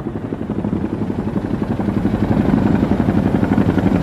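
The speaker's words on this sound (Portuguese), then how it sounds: "um helicóptero agora podia levá-los para a segurança" A rescue helicopter flies overhead near Mount Rainier after a blizzard, its rotor chopping in a loud, steady rhythmic beat that grows slightly stronger as it continues, heard alone.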